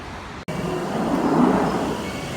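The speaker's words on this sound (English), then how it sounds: "Here comes my train." A London Underground train pulls into the station, a loud continuous rumble and roar that swells after a brief gap near the start and stays strong to the end.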